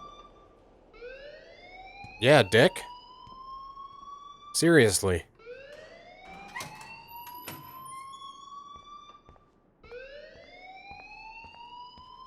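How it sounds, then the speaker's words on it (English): An alarm keeps sounding at Blackwell Academy in Life is Strange, rising electronic tones repeating in sweeps, with short bursts of talk cutting in twice. "please turn off that alarm since that's your job"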